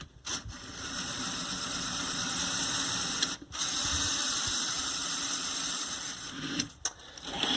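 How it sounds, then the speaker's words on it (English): A small Lego Technic linear actuator motor raises the blade on a toy Arctic Explorer truck with a continuous thin, buzzing whir. Brief dips interrupt it before the steady mechanical hum resumes, heard up close with no talking. "So it's just lifting the blade here via this small linear actuator."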